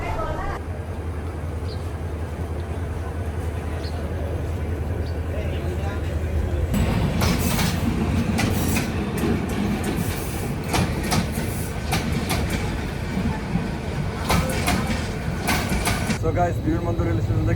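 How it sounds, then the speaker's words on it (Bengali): A passenger train rolls along the rails leaving Dhaka Airport railway station with a steady rumble that grows louder partway through, with intermittent clicks and voices talking throughout. "ট্রেন আবার ছাড়লো"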